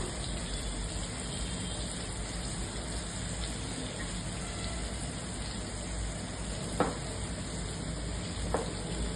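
Fish frying in a pan gives a steady, fairly quiet sizzle with a constant hiss throughout, broken by two brief clicks near the end.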